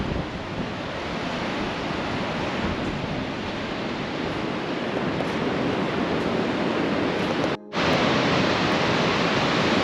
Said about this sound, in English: the waves are quite big at the moment